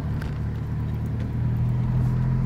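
Volkswagen Golf GTI cruising at 40 km/h shortly after a cold start, heard as a steady low engine drone with a faint rise in tone toward the end, no voices.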